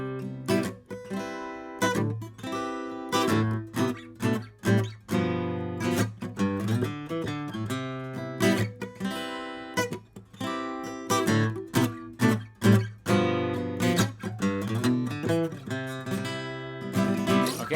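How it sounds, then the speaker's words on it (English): Guitar strummed through a sequence of chord voicings in a rhythmic pattern, close and clear, with bright attacks and short gaps between strokes, played alone without talk. "Let's put a little strumming pattern on it."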